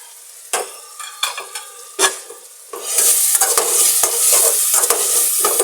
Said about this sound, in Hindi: इसमें हमें टमाटर डाल के थोड़ा सा ज़रा चलाना है ताकि टमाटर बैठ जाए गाइस और इसको अच्छी तरह से भूनना है।